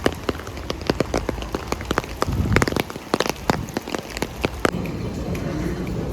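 Rain falling on the ground at a tram stop in Leicester, United Kingdom: a steady wash of patter with dense, irregular drop hits and splashes, close and moderately loud, with faint background noise and no clear talk.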